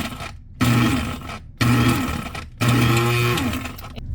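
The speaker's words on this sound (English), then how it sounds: "So then you can go ahead and grind again." An electric coffee grinder whirs loudly as it grinds dehydrated food into powder, running in three separate bursts with short pauses between, close and alone.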